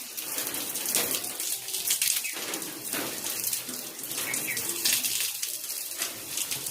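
Water runs steadily from a tap with a plumbing pipe fitting, splashing continuously as hands and feet are washed, close and fairly loud with no talk.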